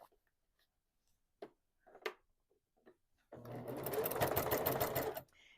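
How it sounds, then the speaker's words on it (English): A sewing machine stitching a scrappy quilt-as-you-go block with a quarter-inch seam runs in a fast steady whir for about two seconds near the end, after a few faint handling clicks and rustles. "So let's sew this on and trim it up"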